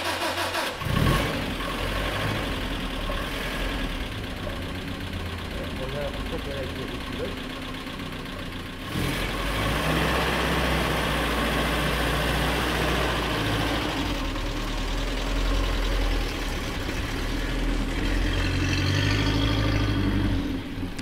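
A Peugeot 402 Eclipse engine cranks, catches and settles into a steady, even idle, loud and close throughout, with a brief dip partway before the running note resumes.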